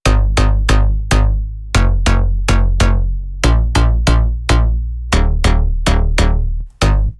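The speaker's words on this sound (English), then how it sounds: "this bass I use that sounds like this" A punchy bass one-shot from a trap drum kit, triggered in a fast, uneven rhythm of about twenty loud, booming hits with quick decays, dry and alone.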